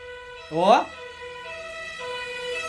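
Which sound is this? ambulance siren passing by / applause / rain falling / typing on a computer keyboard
ambulance siren passing by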